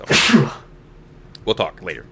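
A single sharp sneeze bursts out at the start, loud and close, followed by brief speech from a person.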